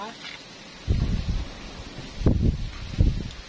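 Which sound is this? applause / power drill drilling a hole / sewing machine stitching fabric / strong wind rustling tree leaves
strong wind rustling tree leaves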